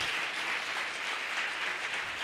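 A church congregation breaks into steady, dense applause at a worship service, a broad wash of many hands clapping at once, sustained and even throughout with no voices rising above it.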